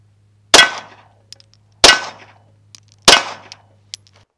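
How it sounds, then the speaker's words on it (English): Three loud, sharp impacts of 9mm full metal jacket 124 grain rounds from a Glock 19, fired at 10 yards, strike an armor plate at a steady pace, each with a ringing metallic clang, followed by a few faint ticks. "Okay, so we just shot it with three rounds of 9mm"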